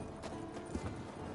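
A purebred warhorse in The Witcher video game gives a couple of faint, close hoof clops over quiet ambient game sound in a brief moment.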